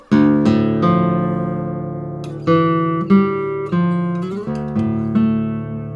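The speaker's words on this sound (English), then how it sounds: "this guitar has such an open, powerful, and just quintessentially Spanish characteristic to the sound" A 1964 Hernández y Aguado nylon-string classical guitar plucked close up, ringing chords and single notes in a lively Spanish-flavored pattern, each attack decaying naturally before the next.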